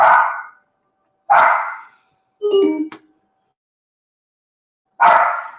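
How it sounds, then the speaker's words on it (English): A dog barks loudly and close by, four separate barks with pauses between, one of them a higher, yelping bark. "So my dog is thinking somebody's at the door at the moment"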